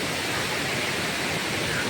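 Rushing water roars from Kaipholangso (Kakosang) waterfall in Karbi Anglong, a dense, steady broadband wash heard up close and loud, with no voices over it.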